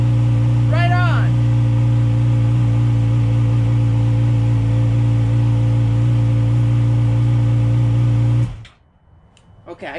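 A Yamaha R6 motorcycle engine idles steadily and loudly close by for about eight seconds, then cuts off abruptly, leaving near silence; a brief voice-like chirp rises over the engine near the start.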